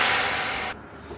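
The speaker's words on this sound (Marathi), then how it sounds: "1 लिटर पाणी घालून घ्यायचं आहे." Water gushes steadily into a pan to make sugar syrup for rasgulla, a loud broadband rush that cuts off abruptly partway through, leaving a quieter room tone.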